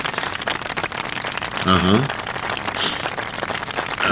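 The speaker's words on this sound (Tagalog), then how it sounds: "Ayan, meron ng applause. Pumalakpak na." Studio audience clapping on a Filipino variety talk show, a short burst of applause rising over the broadband noise while a voice talks over it.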